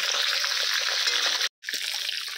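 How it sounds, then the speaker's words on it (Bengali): Fish heads frying in hot oil, turned over until red-browned, for a greens curry: a steady, dense crackling sizzle fills the clip, broken by a brief silent gap midway before resuming. "মাছের মাথাগুলো উল্টি পাল্টি খুব ভালো করে লাল লাল করে ভেজে নেব।"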